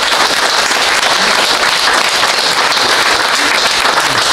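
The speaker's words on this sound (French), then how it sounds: "je vais vous demander, mesdames et messieurs, de l'applaudir" Loud, steady audience applause at an evening event presenting a stage of the 2012 Tour d'Auvergne cycling race, with dense clapping filling the whole stretch and no talk over it.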